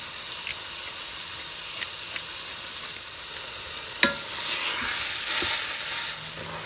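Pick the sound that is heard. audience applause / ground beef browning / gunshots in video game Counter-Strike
ground beef browning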